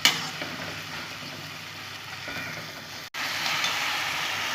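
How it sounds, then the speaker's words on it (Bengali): Ground cumin paste with dried red chillies and green chillies sautéing in hot oil gives a steady close hiss and sizzle, cutting out briefly before resuming slightly louder. "দুটো শুকনো লঙ্কা দিয়েছি আর কাঁচা পাকা লঙ্কা, এটা দিয়েও ভালো করে কষে নেব"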